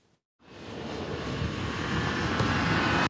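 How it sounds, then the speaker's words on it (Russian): Cars drifting on an icy winter parking lot at a shopping centre, engines roaring steadily and swelling louder over about three seconds, cutting off abruptly. "Рев моторов и ледяная крошка из-под колес."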